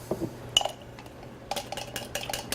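Utensil scraping and clinking against a cooking pot as spices are stirred through food outdoors, a few soft scrapes early then a denser run of metallic clinks toward the end, fairly faint.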